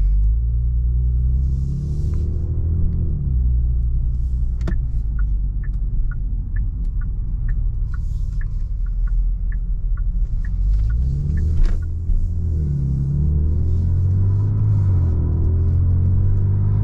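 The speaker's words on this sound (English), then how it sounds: "Let's go ahead and take this Genesis G70 on a drive" A tuned 2023 Genesis G70 with lowering springs drives along, its engine giving a steady low rumble from inside the cabin, with a series of faint ticking clicks partway through.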